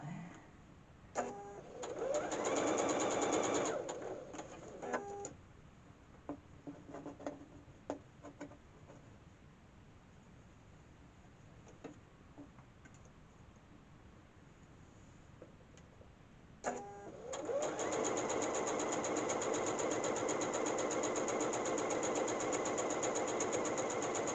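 A sewing machine stitching a wrist pin cushion runs in rapid mechanical bursts, with a short run early, quieter ticking and handling in between, then a long steady stretch of stitching, close and without talk.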